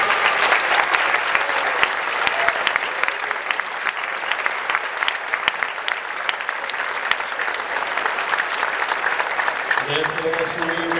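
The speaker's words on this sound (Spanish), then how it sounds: "Un aplauso para Raquel." Sustained audience applause for a vocal soloist at an outdoor summer concert by a community wind band and choir, dense steady clapping for about ten seconds before a voice starts speaking near the end.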